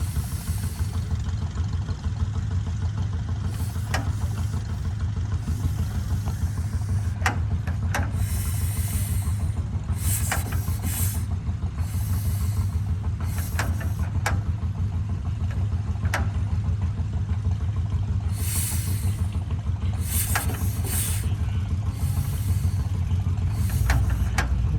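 An antique tractor engine idles at a tractor show with a steady low, rumbling chug, close by and continuous, with scattered clanks and crowd noise around it.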